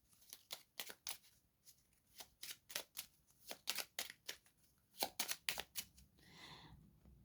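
Cards shuffled for a card reading, a quiet run of quick, crisp riffling flicks in uneven bursts, close by and without talk.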